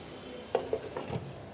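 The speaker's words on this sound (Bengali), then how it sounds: "এরপরে অল্প আঁচে কিছুটা সময় ভেজে নিব।" Puishak (Malabar spinach) greens fry slowly over low heat, a faint soft sizzle under a handful of light spatula taps and stirring scrapes close by.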